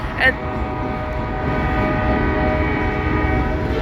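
A Wheeling & Lake Erie train with EMD locomotives at full throttle rumbles past over jointed rail, a sustained low horn tone layered over the clatter, loud and steady throughout the few seconds.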